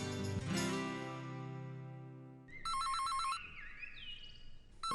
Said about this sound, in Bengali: কলিং বেল নয়, ফোন